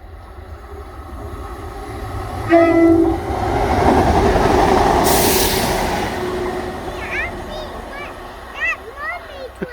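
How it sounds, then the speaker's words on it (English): A Class 170 diesel passenger train passes close by and gives a short horn blast, followed by a rising rush of passing carriages and wheel noise, with people talking over it. "It was a 170 and it gave you a beep on the horn."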